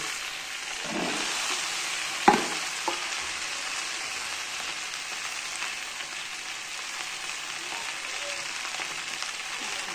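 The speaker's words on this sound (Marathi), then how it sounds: "चांगली परतून घेऊ" Okra stir-fried in a pan on low heat, a steady soft sizzle running throughout with a few scraping stirs and one sharp clack near the start, close and without speech.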